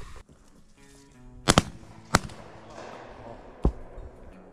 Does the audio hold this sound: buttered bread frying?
no